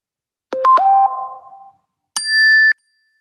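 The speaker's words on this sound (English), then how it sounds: "so I'm like gaslighting you by having these ringtones go, and possibly maybe that's the sound on your phone or whatever" Phone ringtones play from an art book when it is opened: a short ringing chime of a few quick tones, then after a pause a single brighter, higher sustained tone, clear against silence.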